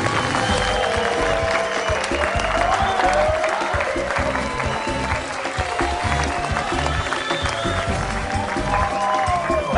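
An audience gives a round of applause for the Jones family, a sustained wash of clapping with some crowd noise and voices mixed in.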